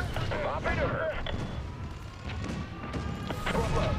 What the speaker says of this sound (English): Oh, those missiles.